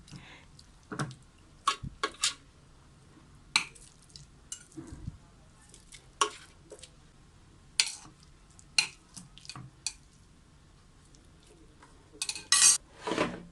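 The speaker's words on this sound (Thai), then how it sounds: "เสร็จแล้วก็เอามาเรียงใส่ในหม้อทอดไร้น้ำมันเลยค่ะ" Seasoned pork pieces for crispy pork are placed one by one into an air fryer basket, giving sporadic close clicks, taps and light clatters with quiet gaps between them.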